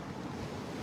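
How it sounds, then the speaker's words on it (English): Ocean surf breaking on a beach at sunrise, a loud, close wash of waves with heavy wind buffeting the microphone, brief and continuous without speech. "I hope you can hear me over the waves."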